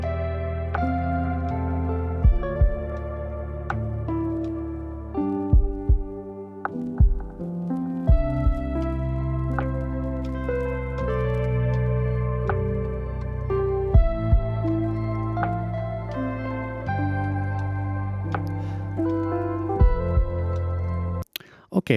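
A mellow lofi track plays steadily, with soft sustained chords over a slow beat of deep kick thumps and light percussive hits throughout.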